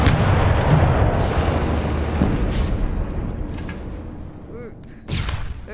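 A stage artillery gun effect in a live War of the Worlds theatre production fires a shell: a loud booming blast that rumbles and slowly decays over several seconds, followed by a brief second burst near the end.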